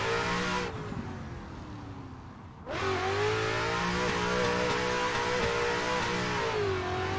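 The engine of an Adam LZ Ford FR RTR drift car revs hard on the Lime Rock Park track, dropping off briefly before climbing back up to a sustained high-pitched roar.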